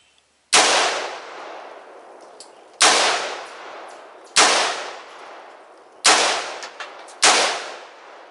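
Five loud shots from a Smith & Wesson M&P 15 rifle fired at a shaving gel can on the ground, spaced a second or two apart, each a sharp crack with a ringing, echoing tail outdoors.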